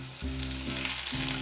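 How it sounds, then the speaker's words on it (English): Garlic and ginger hitting hot oil in a pan for a mushroom and vegetable stir fry, giving a steady, close sizzle with faint stirring and no voices. "So now I will put garlic, 1 teaspoon of"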